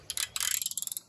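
A socket wrench ratchets in a rapid run of close, crisp clicks, loud and steady, with no voices.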